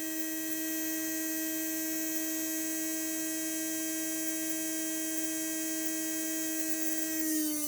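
A Heljan Class 23 model locomotive's electric motor runs at full power, giving a steady, even whine with a constant pitch that holds unchanged throughout before a slight shift at the very end.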